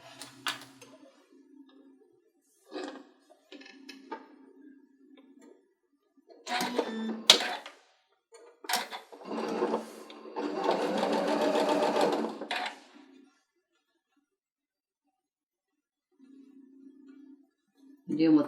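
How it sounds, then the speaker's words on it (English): A sewing machine runs a quarter-inch seam joining two fabric pieces, its stitching coming in short bursts and one long steady run, close and clear, with brief quiet pauses between passes. "And I'm going to start sewing here."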